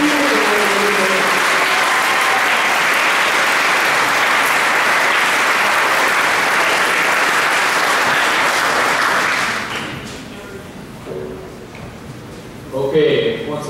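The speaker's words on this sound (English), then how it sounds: "Let's have a round of applause for seniors" Seniors at a 2013 Fillmore Central Scholar Club ceremony receive a loud, continuous round of applause that fades out after about nine seconds, and a voice speaks afterward.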